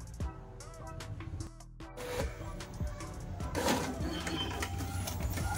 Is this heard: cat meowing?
no